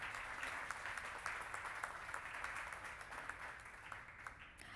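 An audience applauds a commissioner at a public event, a steady wash of many hands clapping throughout at moderate distance with no voices over it.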